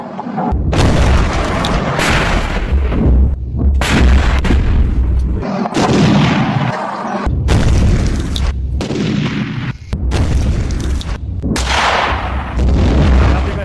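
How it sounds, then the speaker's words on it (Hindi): Cross-border artillery and gunfire along the Line of Control between India and Pakistan: repeated heavy booms and bursts of shooting follow one another almost continuously, loud and dense, with no talk over them. "पाकिस्तान फायरिंग कर रहा है लगातार एलओसी पर।"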